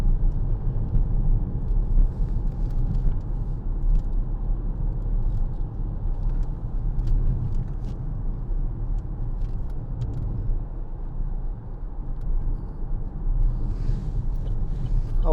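A 2014 Vauxhall Insignia 2.0 CDTi SRi five-door diesel on a test drive, heard as a steady low cabin rumble of engine and road noise with faint wind, continuous throughout without speech.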